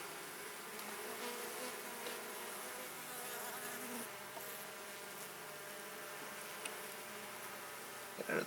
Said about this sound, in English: Get out of there, bees. I don't want to squish you.